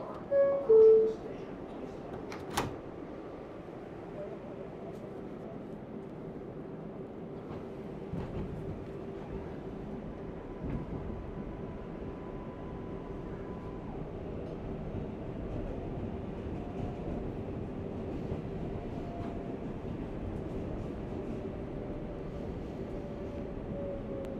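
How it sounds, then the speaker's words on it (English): A New York 7 local subway train bound for Main Street runs along, with a steady low rumble and hum filling the car after a few short loud knocks and a brief chime at the start. "Main Street bound 7 local train"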